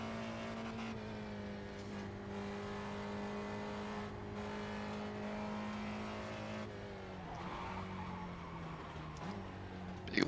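A Spec Racer Ford in the iRacing sim at Oulton Park drones steadily under braking, then its tyres lock with a short scrubbing skid as the engine pitch dips and wavers.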